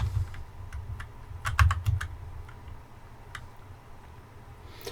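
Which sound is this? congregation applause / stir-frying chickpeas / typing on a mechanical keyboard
typing on a mechanical keyboard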